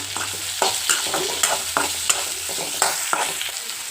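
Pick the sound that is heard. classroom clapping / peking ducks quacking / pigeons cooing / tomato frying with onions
tomato frying with onions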